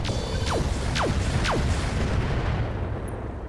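Weapons fire from a Bull Shark mech in BattleTech RogueTech: three sharp descending zapping shots in quick succession, about half a second apart, over a loud rumbling bed that slowly fades.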